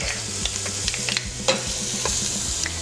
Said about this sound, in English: So we'll add some garlic.